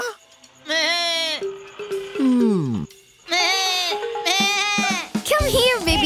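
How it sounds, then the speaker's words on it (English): A cartoon baby goat bleats in several loud, wavering cries, some rising and some falling in pitch, separated by short pauses. "Come here, baby goat."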